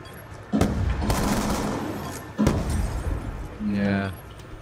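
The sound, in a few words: gunfire in a video game (Fortnite / Black Ops 2)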